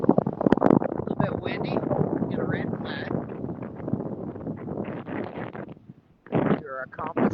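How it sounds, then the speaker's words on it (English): Wind gusts buffet the microphone on the beach at San Agustín under a red-flag warning, a low rumbling roar running under close talk, dropping briefly before picking up again. "A little bit windy."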